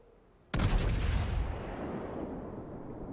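A single heavy artillery blast from the battleship Amagi booms out abruptly in the video game World of Warships, followed by a long rumbling decay, with no voices.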